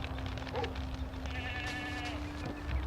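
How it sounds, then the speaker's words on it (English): Sheep bleat faintly in the background of a video game, with a drawn-out baa over a low, steady ambient hum. "Along with the sheep that I hear baaing in the background."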